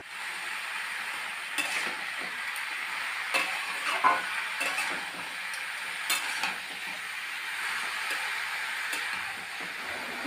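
Snake gourd pieces stirred with fried onion, salt and turmeric in a hot pan, giving a steady sizzle with scattered scraping and clicking strokes of the spoon, close and moderately loud, with no talking.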